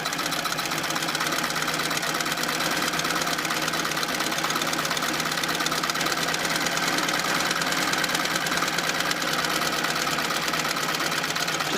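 A treadle sewing machine runs steadily through a line of stitching, giving a continuous mechanical whirring clatter with a fast, even rhythm, close and fairly loud throughout with no pauses.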